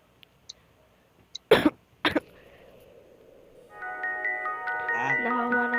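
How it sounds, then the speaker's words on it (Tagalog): A few faint ticks, then two loud, sharp coughs close by, followed by a rising electronic tone with layered musical notes. "Nahawa na ako sa ubo."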